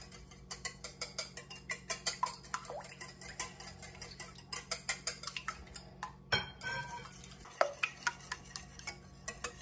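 A utensil steadily stirs eggs into brown sugar syrup in a bowl, making quiet, rhythmic ticking scrapes and taps against the side, close and faint, with a low steady hum behind and no talking.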